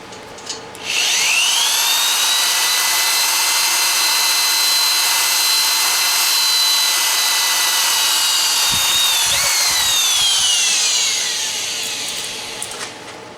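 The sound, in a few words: power drill drilling steel track panel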